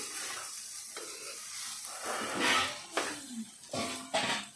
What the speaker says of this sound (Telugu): అన్నం వేసినప్పుడు కొంచెం స్టవ్ సిమ్లో పెట్టుకొని కలుపుకొని